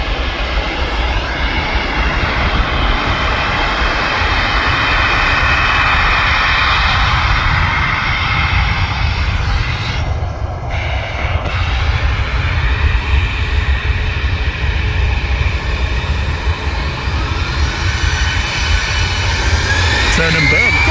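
An EasyJet passenger jet at Manchester Airport gives a loud, sustained engine roar that swells and holds for many seconds, heard from a viewing park on the south side.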